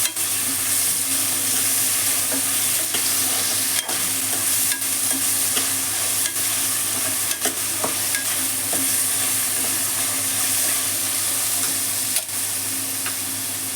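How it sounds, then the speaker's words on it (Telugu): Steady frying sizzle of onions being stirred into gongura mutton in a pan, with a spoon scraping and clinking at intervals throughout, close and continuous with no talking. "ఉల్లిపాయలు వేసాక మంచిగా కలుపుకోవాలి."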